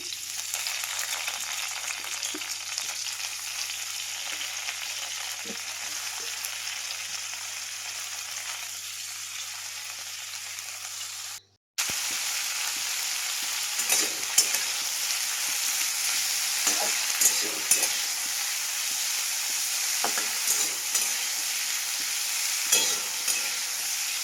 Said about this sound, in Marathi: आता ढोबी मिरची ना चांगली भाजून घेते